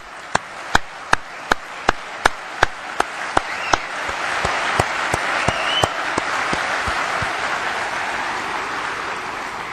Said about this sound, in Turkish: Onun için biz de sizlere alkışlıyoruz.